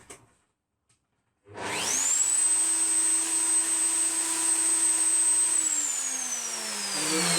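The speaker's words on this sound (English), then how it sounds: "So you then go round underneath and turn the router on" After a second of near silence, a router mounted underneath a TWX7 router table switches on, spinning up to a loud steady high-pitched whine that holds, then begins to slow slightly near the end.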